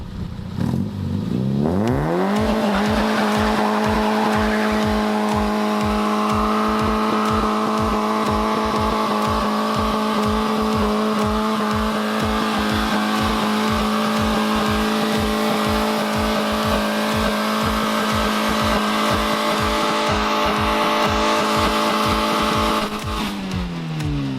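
A front-wheel-drive car launches at full throttle, the engine roaring at high revs with a rapid rhythmic chatter from wheelspin and tire scrabble, sustained and loud up close before it eases off near the end.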